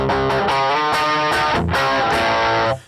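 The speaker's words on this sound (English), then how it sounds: "like say Red Dirt, which is a distortion" A NUX amp set to its Red Dirt distortion carries a loud, dense, heavily distorted electric guitar phrase with chord changes, which cuts off sharply at the end.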